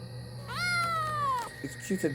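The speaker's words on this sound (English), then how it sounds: "at my worst moment, a cat approached me" An animated cat lets out one long, clear, drawn-out meow lasting about a second, close and loud, followed by brief softer sounds.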